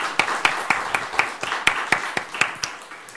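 Sharp claps in a loose, fairly regular rhythm from a small group at a Korean church's special early-morning prayer service, about a dozen distinct claps over a few seconds, close and moderately loud.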